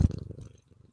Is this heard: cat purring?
yes